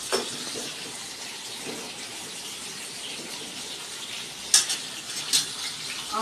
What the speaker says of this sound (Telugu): ఇవి బాగా కొంచెం ఇట్లా ఫ్రై కావాలి.